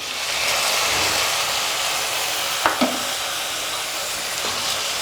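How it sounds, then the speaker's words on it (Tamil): Tomatoes sizzle and sauté in a hot pan while cooking for an idli kurma with potato and peas, a steady close frying hiss with a couple of brief clinks partway through and no talking. "நல்லா கொலைய மசிஞ்சு வர அளவுக்கு இதை வதக்கிக்கலாம்"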